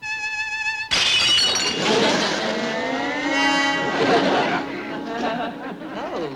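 Eyeglass lenses shatter with a sudden loud crash just after a sustained, penetrating violin tone, and bright ringing and noisy tones continue after the break in a scene from the sitcom My Favorite Martian.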